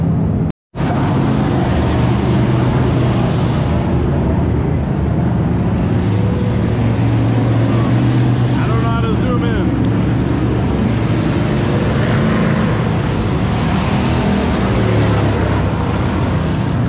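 Race cars at Worthington Speedway roar in a continuous loud engine drone, rising and falling as they circle the track, with a brief cut at the very start.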